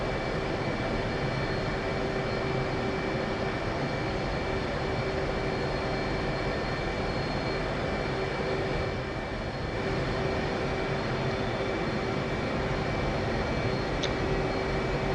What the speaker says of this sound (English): Devil 1, clear for takeoff, runway 31 left